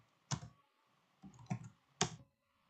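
Three separate clicks from a computer keyboard as a command is entered, spaced out with pauses between them, close and fairly quiet.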